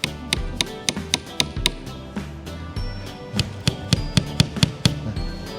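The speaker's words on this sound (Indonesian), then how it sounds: "maka perlu kita ketok perlahan-lahan" Gentle tapping as a wooden stretch key is knocked into a canvas frame: a series of sharp, close knocks in uneven rhythm, some clustered quickly, some spaced apart, with no talking.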